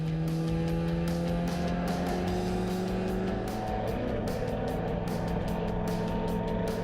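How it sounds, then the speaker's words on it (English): Race cars roar continuously through the right-hand Copse Corner on a wet Silverstone track, engine notes rising and sliding as several cars pass close by. "Owen Walton was eager to gain ground as well as the cars worked their way through the right-hander of Copse Corner."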